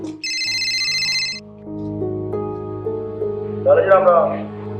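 A phone ringtone chimes for about a second and a half, a bright repeating electronic tone, before a droning music bed and voices carry on beneath it.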